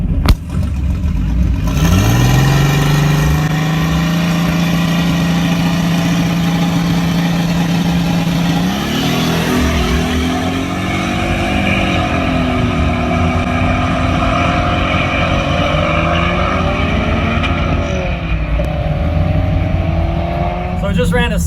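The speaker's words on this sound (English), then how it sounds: "Eli's 600 horsepower STI against a Z." A 600 horsepower Subaru STI and a Datsun 280ZX drag racing, with a loud engine note revving up, then launching and climbing through the gears, rising and falling as the cars run, with voices talking over it.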